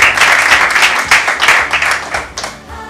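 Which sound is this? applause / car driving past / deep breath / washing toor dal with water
applause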